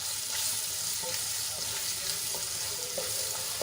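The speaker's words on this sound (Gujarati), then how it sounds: "ડુંગળીને આપણે ગુલાબી રંગની થાય ત્યાં સુધી સાંતળી લેવાની છે" Chopped onions sauté in gram flour in a pan, giving a steady soft sizzle and crackle with faint stirring scrapes throughout.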